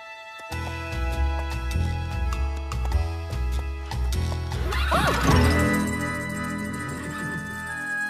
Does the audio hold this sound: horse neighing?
yes